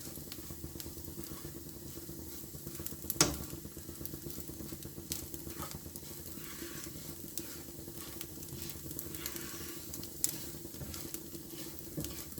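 Poppy seeds roast in a pan while they are stirred, giving a soft, steady sizzle and gritty scraping. A couple of faint clinks sound along the way. No one speaks.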